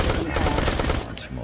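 Rapid gunfire from the twin stick shooter Neon Chrome, a dense burst of loud, continuous shots mixed with game effects.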